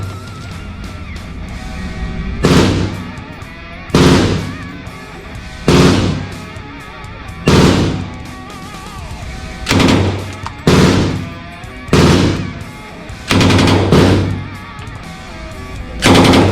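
A Thompson .45 submachine gun fires short bursts at a shooting range about 30 metres from the target, with loud rapid cracks in roughly nine separate bursts spaced a second or two apart and a low background hum between them.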